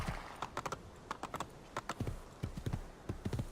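A white horse trots in Assassin's Creed 2, its hooves clip-clopping in a steady, close rhythm of crisp paired hits that continues throughout without any talk.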